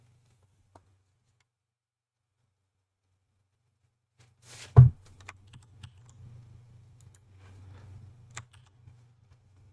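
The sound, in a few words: computer keyboard typing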